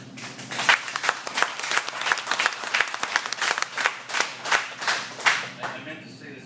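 An audience at a Harley Owners Group chapter gathering in 2012 breaks into sustained, dense applause after a farewell speech, with many hands clapping close by throughout.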